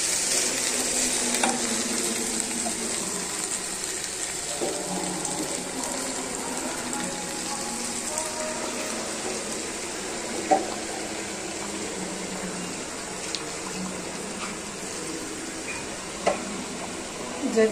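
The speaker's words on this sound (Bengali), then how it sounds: "মাংস যাতে ভাজা হয়ে গিয়েছে, এখন আমি গরম পানি দিয়ে দেব।" Meat frying in oil in a pot with hot water poured in, a steady close hiss and sizzle with faint stirring clicks throughout, no talking.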